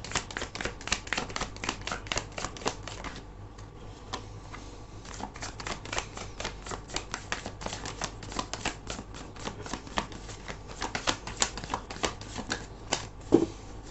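Tarot cards are shuffled and drawn, giving a long run of rapid crisp riffling clicks and snaps with short pauses, close and moderately loud, with no talk.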